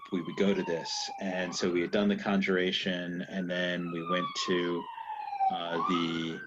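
A wailing emergency vehicle siren sweeps up and down while passing by outside a coffee house, running steadily under continuous close speech from someone talking throughout.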